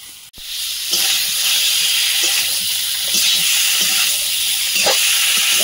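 Potatoes go into fried spice paste in a hot kadai, a sharp knock followed by a loud, sustained close sizzle with intermittent stirring scrapes.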